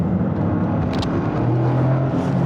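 A Toyota GR Yaris with a turbocharged 3-cylinder engine accelerates on a bumpy road, heard from inside as a steady, fairly loud engine drone with a rising pitch and some road rumble.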